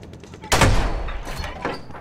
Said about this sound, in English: Oh, he's shooting us.